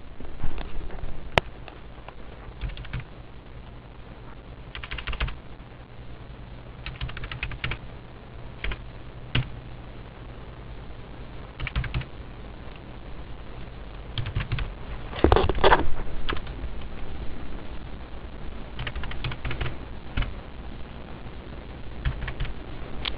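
Fingers type on a computer keyboard while entering accounting data, a close run of light key taps in irregular bursts with short pauses and a louder flurry midway, with no talking.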